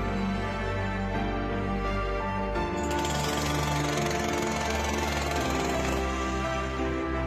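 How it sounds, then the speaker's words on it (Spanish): A power drill whines steadily with a buzzing motor tone and shifts to a rougher grinding pitch partway through, used by rescuers freeing a trapped dog, with no one speaking. "El ruido del taladro la asusta."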